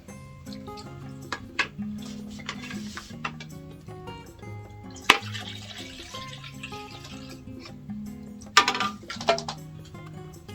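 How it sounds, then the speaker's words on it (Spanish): Water poured onto a potted orchid set inside a container, with splashing and trickling bursts, intermittent drips and pours, close and fairly quiet over a steady low background hum. "Echamos agua."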